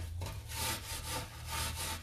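Old paint is scraped off a piece of furniture with a spatula or sandpaper, giving close, loud, rhythmic rasping strokes in about four back-and-forth passes, with no talk.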